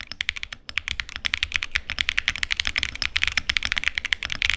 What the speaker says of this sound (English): they tend to sound more similar to these salmon tactiles.